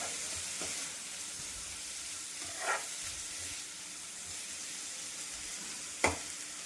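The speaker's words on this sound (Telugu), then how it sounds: "ముందుగా కట్ చేసి పెట్టుకున్న టొమాటో ముక్కలు కూడా వేసేద్దాము" Tomato pieces fry in a pan for a brinjal and dry fish curry, with a steady, moderate sizzle and a couple of brief scraping stirs.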